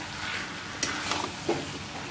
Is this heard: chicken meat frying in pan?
yes